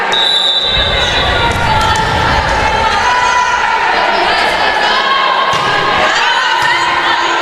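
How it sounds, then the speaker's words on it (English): A home crowd at a college volleyball match rallies with loud chants and cheers that fill the gym, mixed with shouting, court squeaks and ball thuds. "Crowd starting to get into it, trying to chant on their home Spartans."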